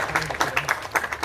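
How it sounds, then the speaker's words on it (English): An audience applauding to welcome the chief guest, Dr. Veena Nayak, at an OPTSA Day event, a short burst of scattered hand claps in an indoor gathering. "Please join me in giving a warm round of applause as we welcome our esteemed Chief Guest, Dr. Veena Nayak."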